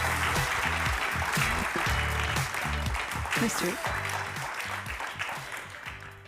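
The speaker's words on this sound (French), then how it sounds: "je vous prie de l'applaudir sous vos applaudissements" Audience applause welcoming a pianist to the stage at a masterclass, a steady sustained clapping with some voices and music-like tones underneath, loud and continuous before tapering slightly.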